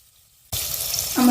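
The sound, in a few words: frying paneer in oil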